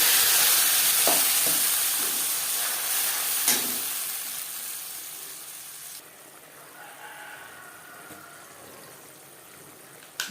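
Masala paste hits hot refined oil with panch phoron tempering, giving a steady, close sizzling hiss that gradually softens, with a few stirring clinks.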